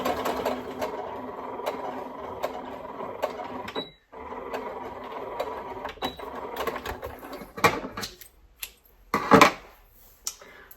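Domestic sewing machine stitching fabric ties, running in steady bursts for several seconds with brief pauses, followed by a few sharper clicks and knocks of the mechanism near the end.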